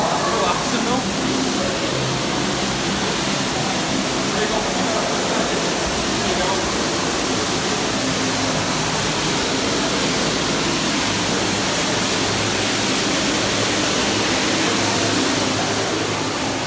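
Flowing water fills a walk-through art installation at teamLab Planets in Japan, a loud, unbroken hiss and rush that surrounds the listener from start to finish.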